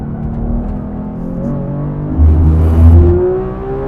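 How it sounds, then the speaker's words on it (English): A 500-horsepower Porsche 911 R engine revs up with a rising, throaty pitch, loud and close, swelling briefly before settling back. "The engine's very snappy, very free revving."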